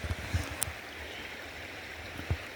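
Shallow river water flows steadily over stones in Guadalupe State Park, a soft continuous rushing murmur with a few nearby splashes from wading.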